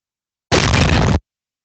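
A wooden or concrete wall shatters in a video game: one short, loud, crunching burst of under a second, cleanly isolated in silence.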